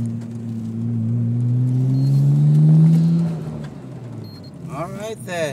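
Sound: 1999 Nissan R34 GT-R twin turbo car driving

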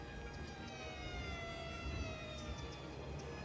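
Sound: fire engine sirens in video game Cities: Skylines

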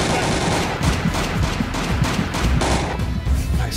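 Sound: gunshots in the video game Alekhine's Gun

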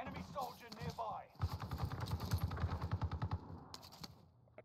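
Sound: gunfire in a video game

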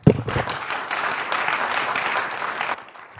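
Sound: audience applause welcoming the speaker

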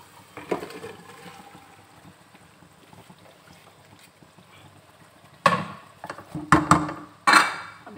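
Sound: okra added to oil and stirred in pan

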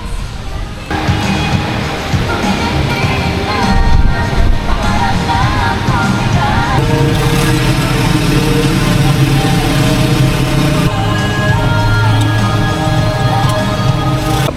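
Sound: motorcycle engine idling in LTO inspection queue

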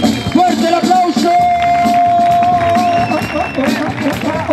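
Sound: audience applause and cheering at a slap battle

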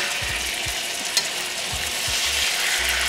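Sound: chicken sizzling in pan as it is flipped

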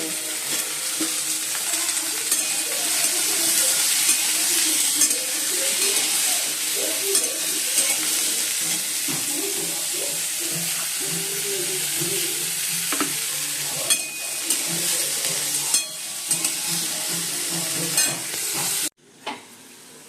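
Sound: frying luchi in a pan, stirring

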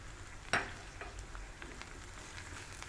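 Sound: stirring spices (crushed red chilli, cumin) in a pan

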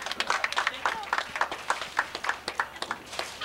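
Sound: audience applause for a birthday girl

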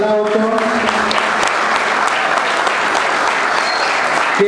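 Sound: applause

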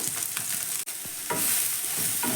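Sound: soya chunks frying and stirred in hot oil

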